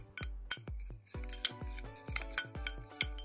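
A metal spoon clinks rhythmically against a bowl while mustard oil, alum and ground cloves are stirred together. About a dozen sharp, ringing taps come up close and quiet, with no voices.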